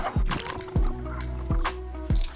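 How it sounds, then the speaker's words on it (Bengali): Hilsa fish pieces are washed by hand in a basin of water, with repeated sloshing splashes and drips about every three-quarters of a second, close and fairly loud with no talking. "মাছগুলো ভালো করে পরিষ্কার করে ধুয়ে নিচ্ছি।"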